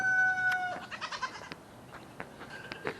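Goats on a family farm bleat nearby in a few short, faint cries mixed with soft rustling, heard close but quiet.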